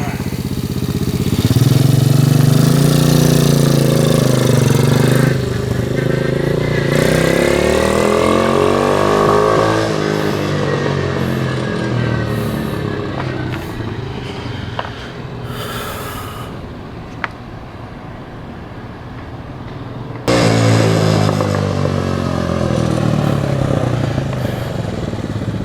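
A lay low mini truck's engine runs steadily on its first ride, a loud continuous rumble with rising and falling revs throughout, cutting briefly and restarting near the end, with occasional voices faintly under it.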